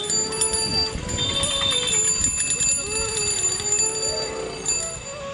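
A bicycle bell rings repeatedly in short bright bursts while riding through a village market street, close and clear over constant street bustle and traffic noise.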